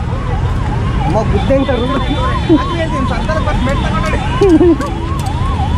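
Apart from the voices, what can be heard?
ambulance siren in traffic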